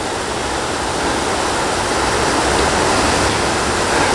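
Creek water flows in a steady, loud rush of broadband noise that holds constant throughout, close and uninterrupted, with no voices.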